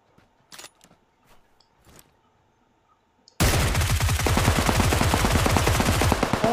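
In a PUBG PC Lite match on the Vikendi map, a few sparse shots ring out at first. Then loud, sustained automatic gunfire rattles continuously in fast repeating bursts.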